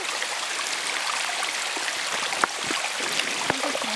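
A stream of glacier runoff water on a mountain trail, a constant rushing hiss of flowing water close by, with a few faint drips and small knocks on top.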